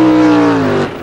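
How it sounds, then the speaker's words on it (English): A drag racing car with a small block Chevy engine roars loudly and close, its strong tonal drone sliding slightly downward in pitch as it passes, then fading abruptly near the end. "a Future Force car, with that small block Chevy, and a Barry car, very much the state of the art car here"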